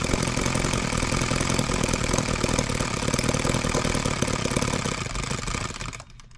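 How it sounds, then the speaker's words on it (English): A Holt H75 engine running on alcohol idles with a steady, loud mechanical chug, then dies away abruptly near the end into near silence. "let's see if we can idle it down a little bit more yet"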